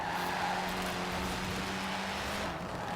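A fast Audi S1 in the racing game Forza Horizon 4 holds a steady, loud engine drone at high speed, with a sustained tonal whine running evenly throughout and a faint hint of tire noise near the end.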